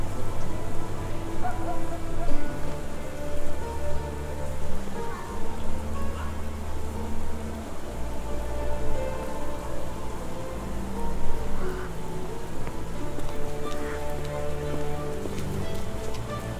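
Steady rain patters across a surface throughout the scene in the video game Sherlock Holmes The Awakened, an even, continuous hiss mixed with low ambient music.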